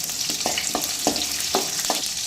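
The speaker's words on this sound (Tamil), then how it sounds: "இப்போ இது கூட 5 பல் பூண்டு ஆட் பண்ணி நல்லா கிளறி விட்டுக்கலாம்" Five garlic cloves sizzle with softened onions in a pan as a spoon stirs them, giving a constant frying hiss with a rhythmic run of scraping strokes about every half second, close and alone.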